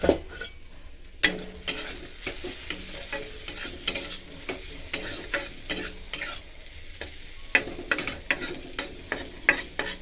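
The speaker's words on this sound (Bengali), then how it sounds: "শুধু পেঁয়াজটা কাঁচা লঙ্কা দিয়ে ভাজছি" Onion and green chilies fry in a pan and are stirred, with repeated scraping strokes over a steady sizzle. No one speaks.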